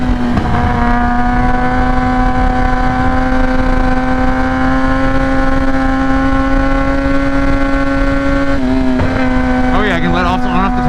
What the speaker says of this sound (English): I can let off the throttle, get back on it.